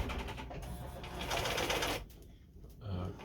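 A restored Bernina 830 Record sewing machine stitches in reverse with a close, busy mechanical whir and rapid needle chatter, then slows and falls quiet partway through.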